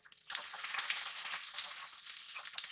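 Onion and garlic fry in a hot pan with a bright, continuous sizzle that swells just after the start and crackles on steadily, close and alone without talk.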